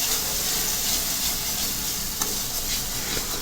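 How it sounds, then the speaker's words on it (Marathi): Soybean masala with sour curd sizzles loudly and evenly in a pan, a dense, continuous frying hiss with faint stirring scrapes. "त्याला कंटिन्यू मिक्स करत राहायचं जेणेकरून दही फाटण्याची शक्यता खूप कमी असते सारखं ढवळत राहायचं"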